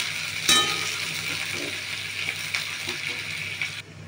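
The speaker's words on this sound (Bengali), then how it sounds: "পেঁয়াজটাকে আমি হালকা ভেজে নেব" Onions frying lightly in a pan for a potol chicken dorma, giving a steady close sizzle with a few soft stirring scrapes and no voices.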